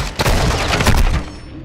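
Dense, continuous gunfire from the video game Call of Duty, rapid overlapping shots and bursts rattling loudly and close throughout with no pauses.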